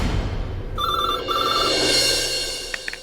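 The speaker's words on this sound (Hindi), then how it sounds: "हेलो रागिनी, मैंने तुम्हें एक न्यूज़ देने के लिए फोन किया।" A telephone rings loudly in a trilling electronic bell pattern, two bursts, fading out with a few soft clicks.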